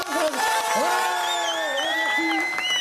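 A crowd at a riders' competition final in Montpellier cheers and whoops loudly with high excited shouts and clapping mixed in, close and continuous.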